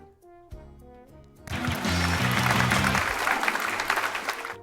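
Audience applause bursts in after a short musical tune, a thick sustained wash of clapping that continues while the music plays softly underneath.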